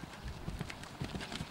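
A horse's hooves clip-clop faintly during a riding lesson, a soft irregular patter of footfalls in an arena with no talk over it.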